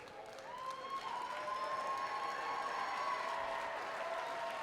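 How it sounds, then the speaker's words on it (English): Audience applause from a crowd at a robotics competition's opening ceremony, honouring the competitors' parents; a steady, dense roll of clapping that swells in after a moment and holds at full volume without letting up. "give your parents a round of applause for all the time that they donate to this organization"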